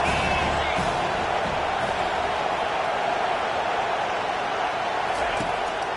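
A dense, steady roar from a large crowd fills the space continuously, loud and unbroken, with commentary-style talk running underneath.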